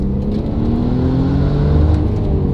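An Audi RS4 engine revs loudly and steadily, its note climbing smoothly across a broad rev range as the car pulls hard, heard from inside the car with a constant deep drone.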